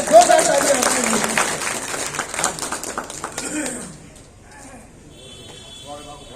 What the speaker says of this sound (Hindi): जोरदार तालियां आपके लिए।